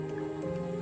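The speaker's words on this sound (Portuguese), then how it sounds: "Está vendo essa coisa borbulhando aqui?" A freshwater spring bubbles up through soft sand on an ocean beach, giving a steady close gurgle with small liquid drips and squishes over a constant hum.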